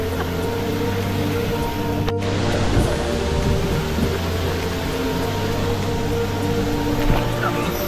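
Khasada waterfall pouring heavily, a dense, steady broadband roar of rushing water that stays loud and constant throughout, with a voice speaking faintly beneath it.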